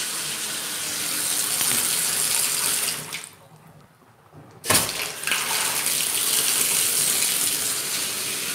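Water pours from a wall-mounted tub faucet into the tub in a loud, steady gush, briefly dropping off for about a second before surging back in full.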